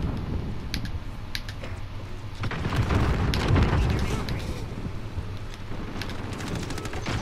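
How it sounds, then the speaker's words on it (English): A cruise missile strikes in a Call of Duty: Modern Warfare match, a broad rumbling blast swelling mid-clip and settling back into a steady din of game noise, with keyboard clicks in the background. "Cruise missile coming in."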